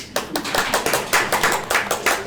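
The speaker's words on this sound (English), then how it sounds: "I feel like we need to give you a round of applause" Law school students applauding at a 1L career networking and interview workshop, a short burst of sharp, close, rhythmic hand claps from a small group.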